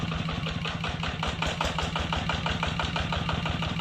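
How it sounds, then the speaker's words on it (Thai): A Kubota ZT180 diesel engine idles close by with a steady, rapid chugging pulse and a low rumble, running continuously without any talk. "นี่ครับเสียงเครื่องแน่นนะครับ"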